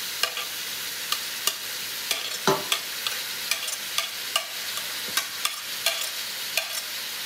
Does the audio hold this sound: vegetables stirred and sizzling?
yes